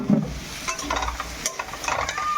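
Food being stirred and fried in a pan while cooking, a soft continuous sizzle with scraping stirs and light clinks, close and moderately quiet, no talking.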